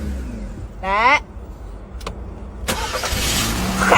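A car engine cranks and catches on the first try late at night, a brief starter whir followed by a steady idle, with someone talking over it.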